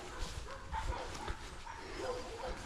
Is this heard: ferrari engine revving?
no